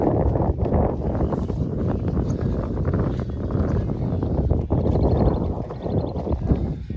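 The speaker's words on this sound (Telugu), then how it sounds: "నైట్ గాలికే సగం చచ్చిపోయేది అక్క, చల్ల గాలి." Cold night wind during a village Bonalu festival trip, a continuous gusty rush and rumble against the microphone, fairly loud and unbroken, with faint sounds in the background.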